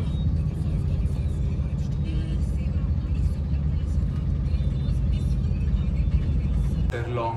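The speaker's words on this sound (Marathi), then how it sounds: "खूप जास्त ट्रॅफिकमध्ये अडकलो आहे आम्ही." A car stuck in heavy road traffic near a stadium produces a steady low engine and road rumble throughout, with other vehicles faintly audible around it and a brief shift near the end.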